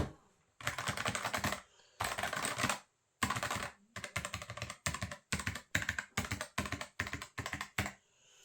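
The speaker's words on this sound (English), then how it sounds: "I'm going to compare it to the two other keyboards I've got, and we'll go through it and see which one sounds better." Crisp, close keystrokes on a Cooler Master SK622 wireless 60% gaming keyboard, rattling in quick bursts of rapid typing separated by short pauses, the clicks clear and alone with no voices.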